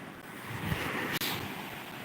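Ocean waves wash steadily onto a beach, a continuous broadband surf roar with wind buffeting the microphone and a brief dropout near the middle.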